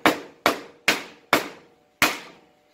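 A homemade plastic hammer strikes five times in close succession, each blow a sharp, loud knock that decays quickly, with a slightly longer pause before the last.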